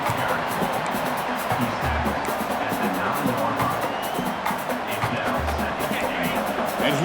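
Steady stadium crowd roar from a college football video game, Iowa State at Houston, as the home fans build noise for a red zone stand; a dense, continuous wash of cheering with low rumbling swells throughout.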